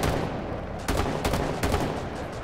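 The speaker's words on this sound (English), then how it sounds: "He's using a pistol." Pistol shots in Rainbow Six Siege, a few sharp cracks spaced unevenly over a dense, noisy game background with constant rumble, fairly loud and close, with no voices.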